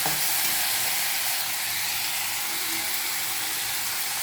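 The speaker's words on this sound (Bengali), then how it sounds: "পরিমাণ মতো নিজের খাওয়ার মতো একটুখানি শাক আলু দিয়ে ভাজছি" Leafy greens and potatoes frying in a pan give a steady, close sizzle with a soft hiss of steam running the whole time, no voices.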